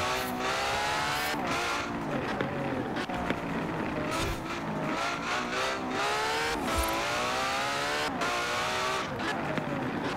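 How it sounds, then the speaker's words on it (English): A Ferrari engine in Forza Horizon 4 revs hard and repeatedly, climbing and dropping through gear changes with brief tire squeals, loud and close with no talk over it. "But I do like the sound of this Ferrari."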